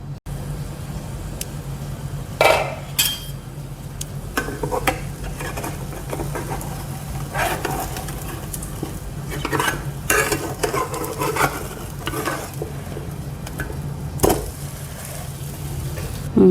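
Ragi vegetable dosa cooks under a lid in a pan, giving a steady low sizzle and hum broken by a few sharp clinks and scrapes, close by with no talking.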